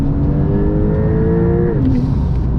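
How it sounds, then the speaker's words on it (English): Brabus-tuned Porsche 911 Turbo, 820 hp, launched from a brake hold at full throttle: a loud, steady engine roar with rising harmonics that climb, then drop briefly at a gear change near the end, alone without talk. "Foot is on the brake, you just hold the brake and then full throttle and then release it."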